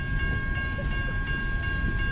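Dense low rumble of the CN B731 westbound freight passing near in Kimball Township, regular clack of wheels over rail joints and a thin metallic whine running through, no one speaking.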